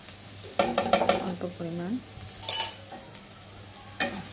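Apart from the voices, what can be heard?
onion with garlic and ginger paste frying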